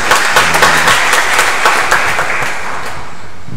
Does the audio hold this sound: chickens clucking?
no